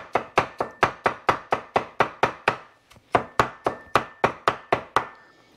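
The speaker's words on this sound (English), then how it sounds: "And I just chop it up in little slices like this." A knife chops smashed fresh ginger into little slices on a board, a steady run of about twenty sharp, evenly spaced close strokes with one short pause midway.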